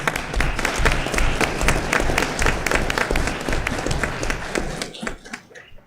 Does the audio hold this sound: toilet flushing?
no